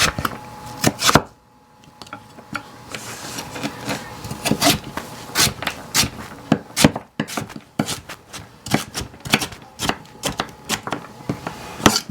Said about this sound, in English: So I'm cutting this into about 1/3 of an inch size pieces.